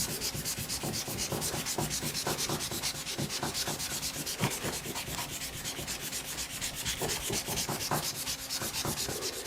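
A hand rubs and polishes chrome bike front suspension legs with a continuous, rhythmic scratchy rubbing, close and fairly steady throughout, with no talking.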